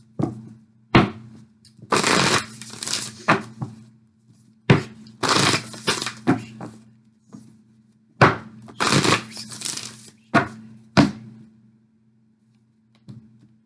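Tarot love cards are shuffled in several close bursts of riffling and flicking, separated by short pauses, with sharp taps as the deck is squared, all alone and with no speech.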